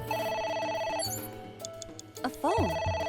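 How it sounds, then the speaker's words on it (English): In the video game AI: The Somnium Files, a telephone rings with a repeating electronic chime over background music, followed by sliding tonal game effects, clear and close. "A phone. Should I pick it up?"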